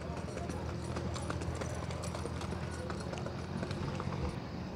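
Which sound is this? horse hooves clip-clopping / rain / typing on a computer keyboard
horse hooves clip-clopping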